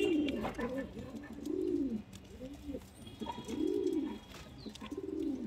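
A breeding pair of pigeons cooing close by in repeated rhythmic low coos, a few phrases separated by short pauses.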